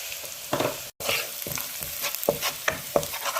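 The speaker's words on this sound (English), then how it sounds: "And then you stir." Chopped garlic frying in a pan for an omena dish, stirred with a utensil that scrapes in a regular rhythm of distinct strokes over a continuous close sizzle.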